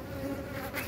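Honey bees buzz steadily at a hive during brood rearing, a close, continuous drone of many wings with no voices.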